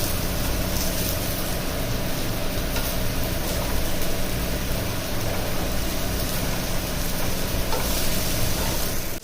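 Raw banana pieces frying in a pan of oil, a dense continuous sizzle with fine bubbling crackle, steady and close throughout.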